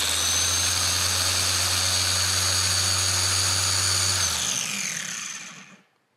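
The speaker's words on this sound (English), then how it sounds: "This is a gear-operated sander" A Festool gear-driven sander runs with a loud, steady high-pitched whine and hum close by, then is switched off and spins down, the tone falling away into silence over the last couple of seconds.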